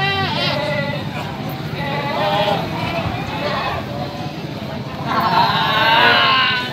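Goats at the Branggahan livestock market bleat loudly a few times, with a wavering bleat at the start and a longer one near the end, over a steady crowd murmur and nearby chatter.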